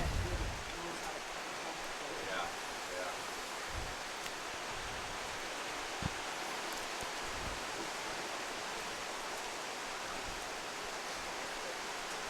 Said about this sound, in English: a torrential tropical downpour here at Glacier Peak Stadium here tonight